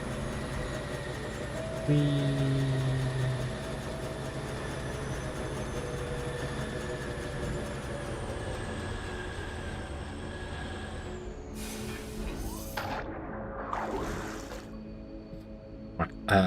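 A train rolling along in the factory-building video game Foundry, a steady low rumble and hum with layered tones, ending in a few clattering, rattling bursts near the close; no talking.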